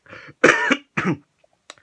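A person coughs three times in quick succession, close and fairly loud, followed by a couple of faint clicks.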